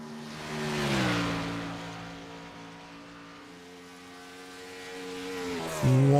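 A stock car engine roars through a qualifying lap at virtual Dover in an eNASCAR Cup Series video game, a steady loud drone that swells and eases with a sharp shift in pitch near the end.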